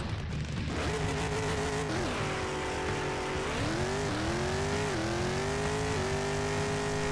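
A Pro Modified drag car in the video game Bounty Drag Racing roars down the track, its loud engine climbing in pitch through several gear shifts, each with a brief dip before rising again.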